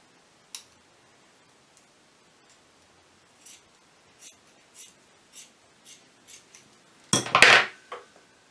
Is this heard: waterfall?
no